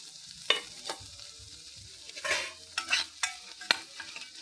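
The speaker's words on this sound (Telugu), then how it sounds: "ఈ ఎల్లిపాయల వల్ల కొంచెం ఫ్రై అయితే మంచి టేస్ట్ ఉంటుంది స్ప్రౌట్స్" Sprouts frying with garlic in a pan, a faint sizzle broken by sharp spatula clacks and scrapes against the metal at an uneven pace, close by and without talk.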